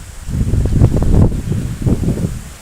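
Strong wind sweeps across an open kite-flying field where Chula kites are flown in Isan, making a loud, continuous rumbling buffet with gusty surges.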